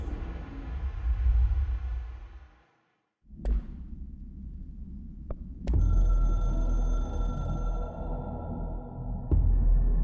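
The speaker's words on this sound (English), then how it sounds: "I can hear the hotline ringing in my dreams, constantly ringing." The hotline telephone in the video game Control rings in loud, sustained electronic tones. It cuts out to near silence briefly, then resumes with sharp onsets over a droning hum.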